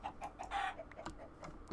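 A chicken in the video game Minecraft clucks in a few soft, short bursts, faint and alone with no talking.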